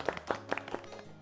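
A small group claps for Lolo's mom, a brief scattering of a few distinct hand claps at moderate level, uneven and fading quickly.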